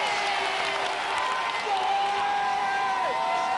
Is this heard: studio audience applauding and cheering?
yes